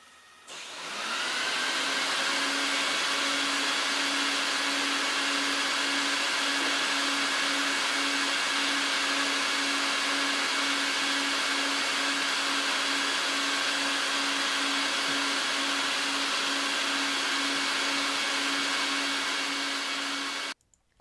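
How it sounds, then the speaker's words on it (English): A vacuum extractor pulls dirt through a rug in a steady, loud, continuous whine and rush of suction that runs unbroken for the whole stretch before cutting off. "Take a look how the vacuum extract everything through the rug"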